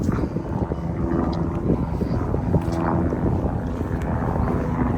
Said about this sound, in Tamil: ஹெலிகாப்டர் வருது